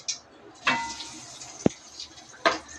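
Paneer pieces for paneer 65 are stirred in hot oil in a kadai, giving a few scraping strokes and one sharp metallic clink over a soft background sizzle, close by and without talking.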